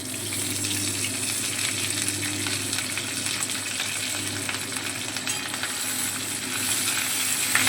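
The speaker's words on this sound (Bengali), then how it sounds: "এই ঘিয়ের মধ্যে এবারে ধুয়ে রাখা নিম পাতাটা দিয়ে দিচ্ছি।" Washed neem leaves sizzle and crackle in hot melted ghee in a pan, a loud, dense, continuous frying hiss with fine popping that holds steady throughout, no voices.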